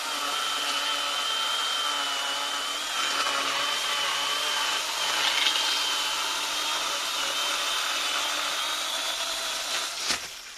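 A Metabo MS 18 LTX cordless pole chainsaw runs steadily while cutting a branch, a sustained high whine at moderate distance ending in a brief crack near the finish.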